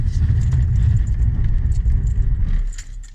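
A Mercedes-AMG brakes hard with ABS engaged to swerve around cones, giving a loud, close rumble with rapid pulsing and rattling that fades at the end.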